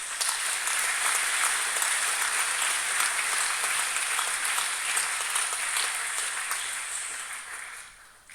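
Sustained applause from the audience at a 2014 school high achievers assembly: steady, dense clapping from many hands that holds for several seconds, then fades out toward the end.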